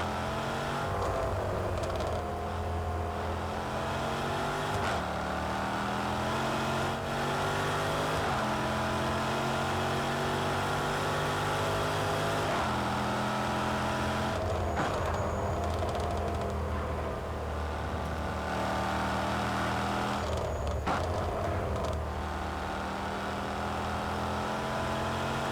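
Engine of an all-wheel-drive race car at Cadwell Park in Project Cars 2, a steady loud drone with repeated rises and falls in pitch as it revs through gear changes, with no talk.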